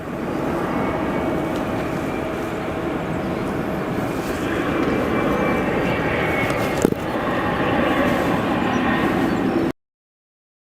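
A Boeing 747-8 in Kuehne+Nagel livery arrives at O'Hare, its jet engines a steady, loud roar that swells slightly midway, with a brief thump, before the sound cuts off abruptly.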